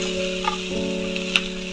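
Sautéed vegetables, already fried once, sizzle steadily in oil in a pan for spicy semolina suji upma, with a soft stir or scrape partway through.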